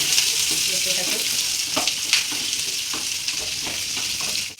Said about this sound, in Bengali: পেঁয়াজ কুচু ক্যাপসিকাম কুচু এগুলো হালকা ভাজবো